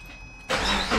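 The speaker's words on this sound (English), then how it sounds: "I'm gonna start up the vehicle," A 2012 Subaru Outback engine turns over and fires: a quiet lull, then a sudden loud catch into a steady, close running roar.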